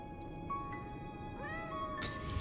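A cat meows several times in the video game Lies of P, short tonal cries over a steady game soundscape, with a brighter, louder call near the end.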